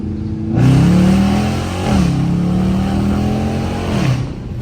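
A Dodge Charger R/T with a loud aftermarket exhaust accelerates hard on a highway, its deep engine note climbing through the gears in rising sweeps broken by two brief shift dips. The sound is close and loud, with no talking.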